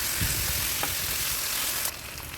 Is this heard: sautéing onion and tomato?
yes